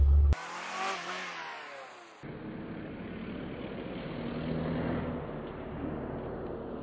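An Italian sports car revs hard, its engine note sweeping upward in pitch before cutting off. A steadier, lower engine hum follows from inside the car.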